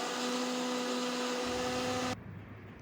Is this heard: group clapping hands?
no